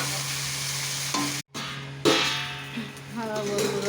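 Pointed gourd and potatoes sizzle in hot oil while being stirred in a pan with turmeric and salt, with steady frying crackle, scraping stirs and a brief pause, while a voice talks alongside.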